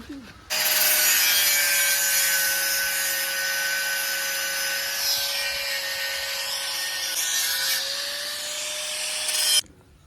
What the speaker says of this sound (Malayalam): നമ്മള് ഫ്രണ്ട് കുറച്ച് കട്ട് ചെയ്ത് വെക്കണം